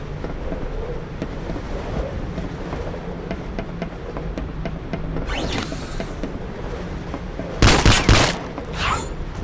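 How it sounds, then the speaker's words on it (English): A Tesla ray gun fires in the action game Vivisector: Beast Within, with a few sharp, bright energy bursts late in the clip, the loudest and longest near the end, over a steady rumble of game ambience. "Yeah, it's like a little pew-pew ray gun."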